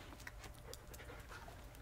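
A Belgian Malinois rescue dog pants quickly and steadily during a trick-training session, a soft, close, rhythmic breathy sound with no talking.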